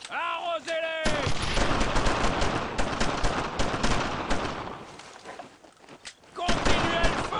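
Gunfire in Brothers in Arms: Road to Hill 30, with dense, loud rifle and machine-gun bursts during a WWII infantry firefight, mixed with tonal game sounds at the start and end and a brief lull near the end.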